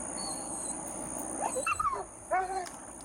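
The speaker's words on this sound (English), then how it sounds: "I'm not finna just listen to a dog cry, bro." A dog cries from a played video, a short series of high, thin whimpers and whines heard over steady background hiss.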